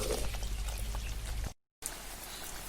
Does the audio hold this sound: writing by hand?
no